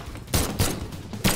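Pistol gunshots in the fighting video game Brawlhalla, three punchy, close, evenly spaced shots over little more than a second.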